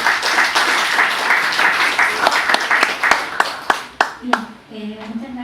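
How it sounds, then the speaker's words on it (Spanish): Audience applause welcoming a speaker at an international linguistics conference, steady clapping filling the hall and thinning toward the end as a voice begins speaking. "con un fuerte aplauso"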